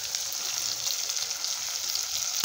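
Okra frying in a pan, a steady bright sizzle with faint crackles, continuous and close, without any voices.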